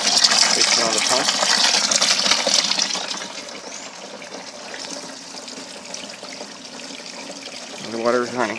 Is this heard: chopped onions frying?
no